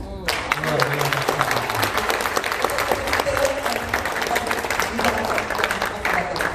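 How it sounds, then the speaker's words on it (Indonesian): An audience at the 3rd Annual Meeting applauds for Professor Leni and Senator Fachrul Razi. Dense, steady clapping runs throughout, with a voice speaking over it at the start. "Boleh sekali lagi tepuk tangan untuk Profesor Leni dan juga Bang Razi"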